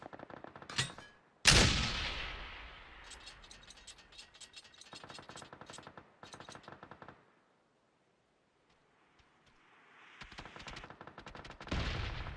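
Mortar rounds launched in PUBG on PC, with sharp loud bursts near the start followed by rapid mechanical ratcheting clicks in several runs, a quiet gap, then more clicking and a loud burst at the end.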